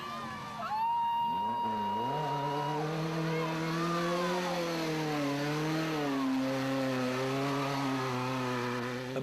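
Race cars at a motor race screaming past with sustained, high-revving engine whine that rises and shifts in pitch as they pass, loud and continuous, with faint commentary underneath.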